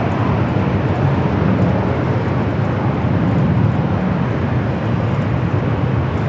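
A Cathay Pacific airliner bound for Hong Kong takes off from the north side at LAX, a steady, loud broadband jet roar with a deep low rumble that holds constant throughout.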